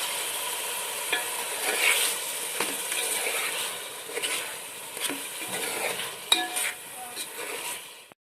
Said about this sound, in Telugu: చామగడ్డలను ఇందులో వేసేసుకోండి ఒక్కసారి కలుపుకోండి